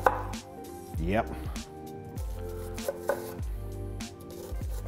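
A knife chops vegetables into long strips on a board for chicken fajitas, with clear, rhythmic knocks in uneven bursts close by, and a voice speaks briefly between cuts.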